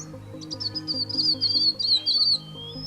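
A small bird in a forest sings a fast, high chirping trill in quick bursts, close and clear over a steady low musical drone.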